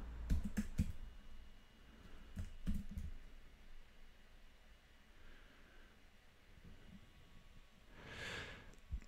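Several quick bursts of key clicks come from a computer keyboard as a spreadsheet entry is typed. Quiet pauses and faint breathing fall between the bursts.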